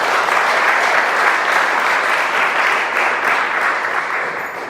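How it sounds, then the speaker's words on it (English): Sustained applause from an audience at a Trans Day of Remembrance ceremony in Providence, steady and dense throughout without a break. "So please give yourselves a big round of applause."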